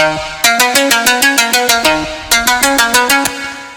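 A bright synth plucks out a quick, evenly spaced melodic pattern, playing one phrase, pausing briefly, then repeating it alone.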